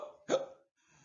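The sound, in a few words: hiccup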